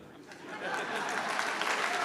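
Audience clapping at a lecture on Christians and politics, swelling after a quiet start into a steady wash of claps, with some voice underneath.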